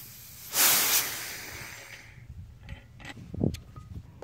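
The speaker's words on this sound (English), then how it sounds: "I like to let the air out slow sometimes so it doesn't freak my cat out." Compressed air slowly released from an FX Monsoon semi-auto regulated PCP air rifle: a loud hiss bursts up, tapers into a long fading leak, then a few softer puffs and faint rustles follow.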